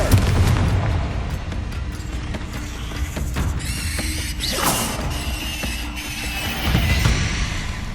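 A Confringo fire spell bursts with a booming blast in the Hogwarts Legacy video game, heard amid busy in-game clatter, creature cries and other effects, with no talking.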